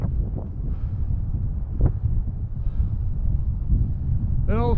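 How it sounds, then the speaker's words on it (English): Wind gusting across a microphone along the Mississippi River trail on a cold, sunny day, a steady low rumble with buffeting surges throughout, and faint voice-like traces near the end. "You guys can feel the wind."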